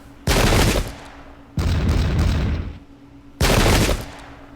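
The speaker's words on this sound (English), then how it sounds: "Fire those flintlocks!" Flintlock musket volleys in the Pike and Shot strategy game, three loud crackling bursts of massed gunfire, each rolling and decaying into a brief tail before the next salvo.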